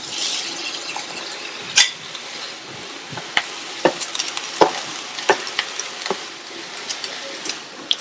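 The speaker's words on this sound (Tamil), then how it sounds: "அடுத்து இதுல உதிர உதிரா வடிச்ச சாதத்தை சேர்க்கிறேன்" Cooked rice being stirred into masala carrots in a pan, with a soft background sizzle broken by sharp, irregular clicks and scrapes of a spoon against the pan.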